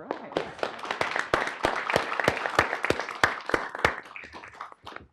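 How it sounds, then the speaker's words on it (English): Applause in a city council work study session chamber, a brisk burst of many overlapping handclaps from a small group near the back of the room, tapering off at the end. "I heard kind of a Shane cheering section at the back of the room over there"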